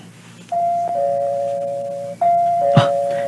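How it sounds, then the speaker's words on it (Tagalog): A two-tone doorbell at a gate rings twice, clear and close, each ding-dong chime ringing out alone with a faint knock-like thud during the second ring. "Mag-doorbell ako."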